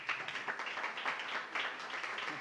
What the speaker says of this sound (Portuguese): salve o nosso servo com palmas